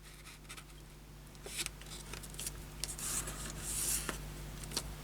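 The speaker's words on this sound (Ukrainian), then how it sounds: "складаємо листок набік вдвічі" A 9 by 9 cm sheet of paper folded in half for an origami New Year tree, giving quiet rubbing and crinkling swishes with a few brief creasing scrapes, close and faint.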